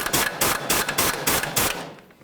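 Bolt on the front shock of a Chevy S-10 pickup being snugged up with a ratchet, a rapid run of close, loud metallic clicks in short bursts for about two seconds, then stopping.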